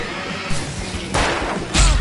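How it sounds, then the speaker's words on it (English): Fireworks go off in a video game as three loud, separate booming bursts, each rising sharply and then fading, with a steady noisy background between them. "I can set off more of the fireworks from here and help you out!"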